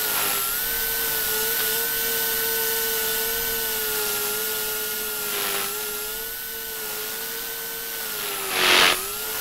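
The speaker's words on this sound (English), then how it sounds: "This is a very fun to fly helicopter." A Blade Nano S3 RC helicopter hovers indoors, its small motor and rotor giving a steady, close, high whine that shifts slightly in pitch, with a couple of brief whooshing bursts.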